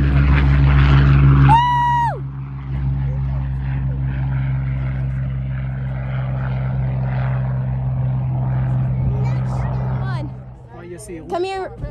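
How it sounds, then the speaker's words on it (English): A Hawker Hurricane propeller fighter starting up at an airshow practice day, a loud droning engine and propeller roar with crowd chatter and voices over it, then dipping near the end. "They're launching that plane."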